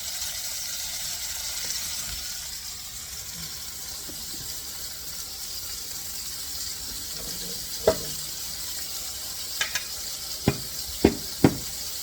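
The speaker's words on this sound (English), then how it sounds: "I actually think I'm frying them within a minute on each side" A steady, soft sizzle of veal cutlets frying in a pan, with a few sharp clicks and pops near the end.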